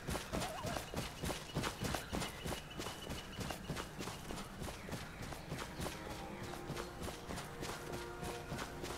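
Horse hooves while riding in the video game Skyrim with the Wildlander setup, a steady run of rapid clip-clopping footfalls throughout, moderately loud and close, with faint game sounds beneath.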